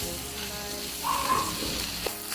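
Eggs, locust tree flowers and green and red peppers being stir-fried in a pan, a constant close sizzle with brief scraping swells and a sharp knock near the end, no voices.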